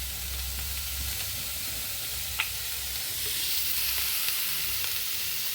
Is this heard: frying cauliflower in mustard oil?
yes